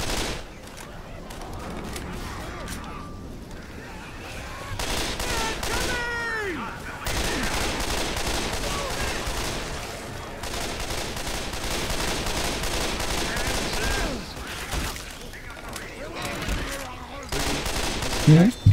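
Rapid bursts of gunfire in the Left 4 Dead 2 video game rattle on almost without pause, with players talking over the shooting.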